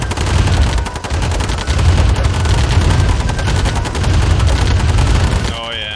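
Command & Conquer battle with sustained loud gunfire and grenade blasts, a dense continuous rattle of shots layered over low booms, ending in a tonal game sound.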